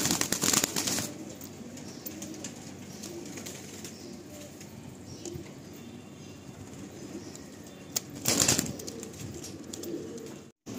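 Andhra pigeons in a full loft flutter in two sharp bursts of flapping wings, one near the start and one near the end, over a quieter bed of soft cooing and rustling.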